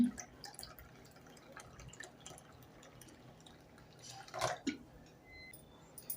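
Soft dripping and a brief splash of a little water being poured into a spiced fish marinade, quiet and close, with small clinks around it.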